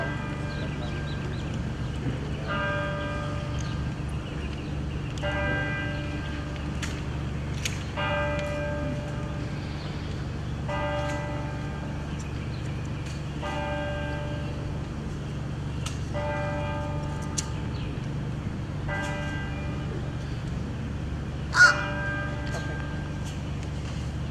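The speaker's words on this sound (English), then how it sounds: "We'll wait for the chimes" A ring of bells chimes at an outdoor Memorial Day service in Riverside Park, Bonita Springs, striking evenly every few seconds with ringing overtones over a low murmur of crowd noise.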